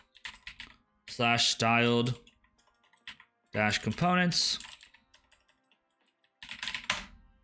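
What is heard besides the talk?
typing on a computer keyboard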